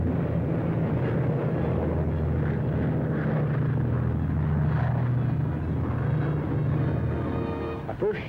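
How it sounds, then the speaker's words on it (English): WWII bomber aircraft returning to the field, heavy piston engines giving a continuous low droning rumble that holds steady throughout, loud and close. "Bombers went out, and 6 are coming back."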